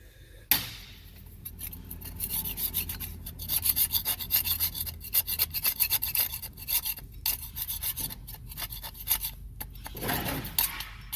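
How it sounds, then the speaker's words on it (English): Scraping clean the gasket surface of a 2H diesel engine block, with repeated rasping, gritty strokes at close range, alone without talk. "It's time to start cleaning up this surface here for it to seal back up"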